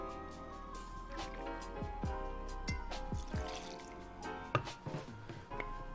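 Reposado tequila pouring into a cocktail glass over muddled ingredients for an orange and cinnamon margarita, a soft liquid trickle with drips beneath background music, fairly quiet and close.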